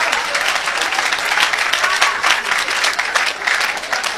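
A church congregation breaks into loud, sustained applause, dense clapping filling the hall for several seconds.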